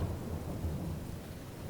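Steady rain with low thunder rumbling in the game Farming Simulator 22, a continuous dense wash of rainfall over a deep, even roll, heard alone at moderate level.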